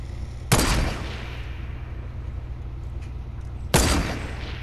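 Two loud sniper rifle shots in Fortnite gameplay, sharp cracks a few seconds apart, each trailing into a short echoing decay over a low steady background hum.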